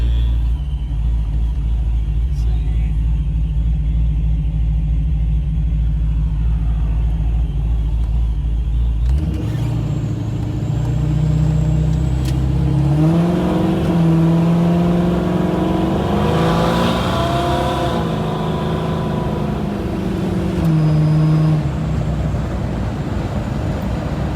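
A car engine rumbling low, then revving up as the car accelerates and shifts, engine tone rising and falling; loud and close, from inside the vehicle while driving.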